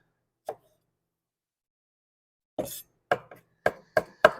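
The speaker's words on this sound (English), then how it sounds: "We got our fresh parsley. Get this minced up a little bit." A knife mincing fresh parsley on a cutting board, one isolated chop followed after a pause by a quick run of five sharp chops, close and crisp with no talking.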